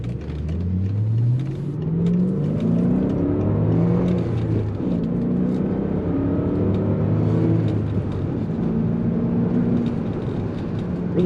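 A 2005 BMW 545i with a homemade exhaust drives at low city speed. Its engine hums steadily inside the cabin, with gear-like rising tones as it speeds up gently, never loud or droning.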